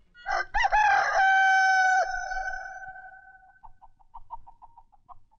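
A person imitates a rooster with one loud, drawn-out cock-a-doodle-doo close by. The crow fades into a string of soft, quick clucking notes, with no other talk.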